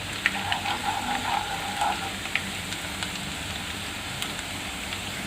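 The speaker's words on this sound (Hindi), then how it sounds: "अब मैं इसमें ये बारीक कटे हुए लहसुन डालूंगी। लहसुन को हमें ट्रांसपेरेंट होने तक इसको भूनना है।" Finely chopped garlic fries in hot oil, giving a steady, soft sizzle with a few faint crackles and pops, close and continuous without talk.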